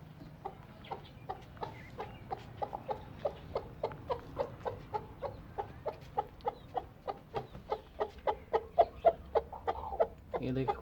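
A hen settled on a clutch of eggs gives a long, regular series of soft clucks, evenly spaced and close by, over a low background hum.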